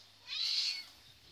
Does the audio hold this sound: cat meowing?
yes